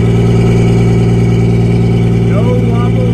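A new 1980 Crown bus with a 670 engine idles, its loud, steady, deep diesel rumble constant throughout, with a voice faintly over it near the end.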